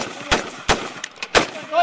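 Gunshots fired at a target during an armed clash between marines and a cartel, three sharp loud reports spaced apart, with a voice faintly heard in between.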